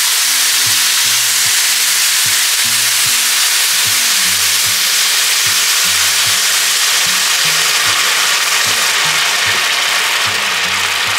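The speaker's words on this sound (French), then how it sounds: "on va venir ajouter en une seule fois le vin blanc" Onions fry in a pan as white wine is poured in, making a loud, steady sizzle close up, along with a rhythmic mechanical rattle underneath.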